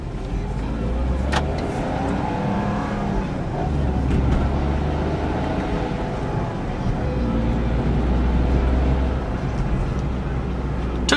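A 2009 Smart Fortwo Passion Coupe accelerating, its small engine droning in steady pulls with brief dips where the gear shift pauses, heard from inside the cabin.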